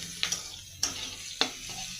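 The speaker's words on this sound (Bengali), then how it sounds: "এই যে পেঁয়াজ আর লঙ্কার ফোড়ন দিয়ে দিয়েছি" Sliced onion and green chilli tempering fry in hot oil, a faint low sizzle broken by three sharp clinks or stirring strokes, quiet and close with no talking.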